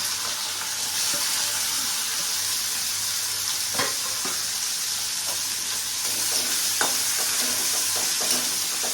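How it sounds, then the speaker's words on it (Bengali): Onions fry in hot oil and ghee for a prawn biryani, giving a steady broadband sizzle with occasional stirring scrapes and soft pops, close and continuous with no talking. "আমি এখন পেঁয়াজগুলোকে ফ্রাই করে নিচ্ছি।"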